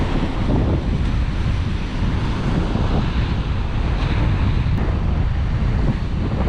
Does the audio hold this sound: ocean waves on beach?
yes